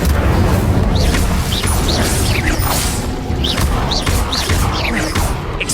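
Incendio fire spell cast in Hogwarts Legacy, a loud, dense burst of roaring, crackling magical blasts and impacts with repeated whooshing flares over a constant combat din.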